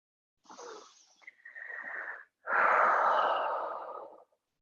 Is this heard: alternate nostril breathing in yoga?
yes